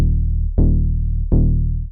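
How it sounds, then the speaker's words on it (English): A Moog-style analog saw bass preset from the Savannah pack, acting as a punchy sub bass for Afro tech, playing three sustained low notes in a row, loud and alone. "a pretty standard saw bass that will just function as the sub bass of your track"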